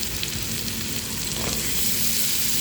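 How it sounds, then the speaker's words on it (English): Two sticks of butter melting in a pan, giving a loud, steady hiss of sizzling throughout with no talking. "I'm going to toss in 2 sticks of butter to melt"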